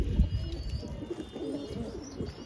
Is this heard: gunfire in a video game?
no